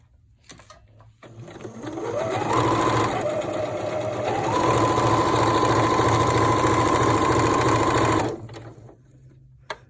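A sewing machine stitches down a fabric face mask with elastic pinned in place, its motor whirring steadily and close up for several seconds, rising in pitch as it speeds up, then stopping.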